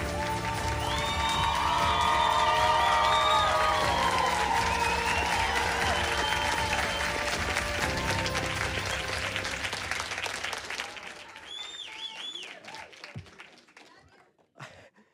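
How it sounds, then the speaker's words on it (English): Prolonged loud applause and cheering fill a graduation ceremony hall, steady for most of the stretch before thinning into scattered claps and fading out, with crowd voices mixed in. "another round of applause for Marley"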